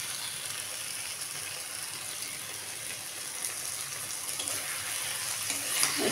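Pointed gourd frying in mustard oil gives off a steady, fairly faint hiss and crackle, with a slight swell near the end.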